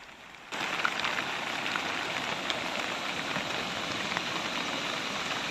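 A heavy summer downpour pours down over a garden plot in a village, a dense, steady roar of rain hitting surfaces that starts abruptly and holds loud and unbroken throughout.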